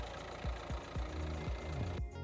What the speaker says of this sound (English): Start the engine and let it run for a few minutes